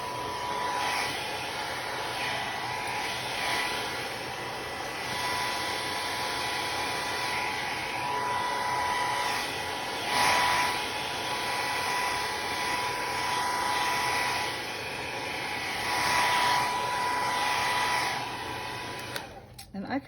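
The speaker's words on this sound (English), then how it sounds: "I'm gonna use the blow dryer again on the" A hair dryer on its low setting blows with a steady, moderate whir throughout over alcohol ink artwork, with some quiet talking mixed in under the airflow.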